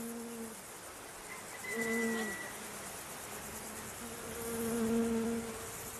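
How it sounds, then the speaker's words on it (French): Honeybees buzz around beehives at a monastery, several faint hums drifting nearby and rising and fading in pitch against a quiet outdoor background. "La présence de ruches au monastère contribue à la préservation de l'écosystème"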